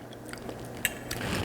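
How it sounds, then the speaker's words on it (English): Crunchy fried sage on silky mashed potatoes being bitten and chewed close up, a few crisp crunches in quick succession, no talk. "See, hear that crunchy sage?"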